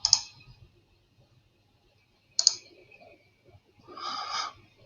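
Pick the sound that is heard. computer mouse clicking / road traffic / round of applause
computer mouse clicking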